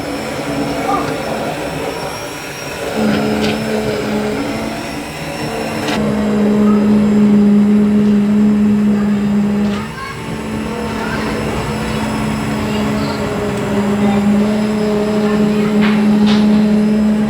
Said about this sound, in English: We're going to go ahead and hit it with the immersion blender here.